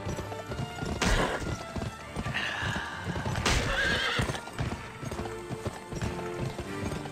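A horse in the Western video game Gun gallops with rapid clip-clop hoofbeats and lets out loud neighs and whinnies over a busy game soundscape of music and effects.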